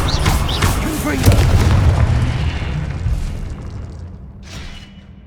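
A Confringo blasting spell explodes in Hogwarts Legacy: a loud, booming burst with a rumbling low end that swells, then slowly fades, followed by a fainter crackling pop near the end.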